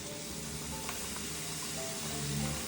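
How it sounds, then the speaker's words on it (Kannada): Onions fry in a pan toward golden brown with a faint, steady sizzle and light crackle that runs continuously at low level, no voices present. "ಇದಕ್ಕೆ ಸ್ವಲ್ಪ ಗೋಲ್ಡನ್ ಬ್ರೌನ್ ಬರೋವರೆಗೂ ಫ್ರೈ ಮಾಡಿಕೊಂಡು"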